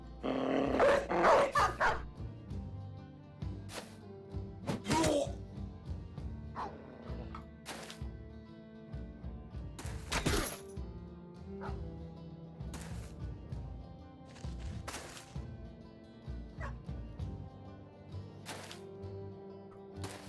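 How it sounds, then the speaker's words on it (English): A pack of hounds barks and growls in the Battle Brothers game, with repeated overlapping bursts of barking and snarling at close range throughout. "now I have a whole horde of dogs"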